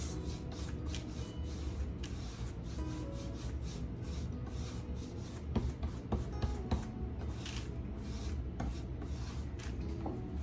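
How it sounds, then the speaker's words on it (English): Baby wipes rub antiquing wax onto dollar-store fall decor in a quiet, steady scratchy rasp that goes on without a break at close range. "I'm just going to come down through here with my antiquing wax"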